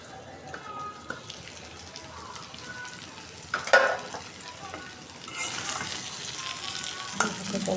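Egg with turmeric fries in oil, with a faint sizzle and several clinks and scrapes of stirring. A louder hiss swells near the end.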